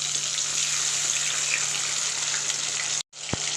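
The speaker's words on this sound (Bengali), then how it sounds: "মশলা ধোয়ার যে জলটা আছে এটা আমি এর মধ্যে দিয়ে দিচ্ছি" Water from rinsing ginger-cumin spice paste is poured into a frying pan, giving a steady, loud hissing rush that stops abruptly near the end, followed by a brief soft knock.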